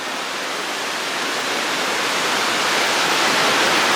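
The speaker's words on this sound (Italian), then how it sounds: "Qui dentro c'è la cascata." A steady, loud roar of rushing water fills the air, a dense continuous wash of noise with no breaks.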